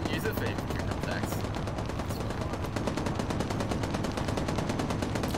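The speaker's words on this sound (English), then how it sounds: "Don't know what he's shooting at." Rapid automatic gunfire in the video game ARMA 3, a dense, steady rattle of evenly spaced shots running continuously through the clip and growing more distinct toward the end.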